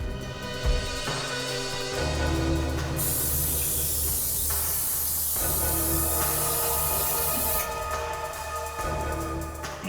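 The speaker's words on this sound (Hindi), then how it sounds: "जरा इस पे स्प्रे करना।" A spray can is aimed at an air conditioner and lets out a continuous hissing burst of about four seconds, framed by shorter spurts, over a humming tonal background.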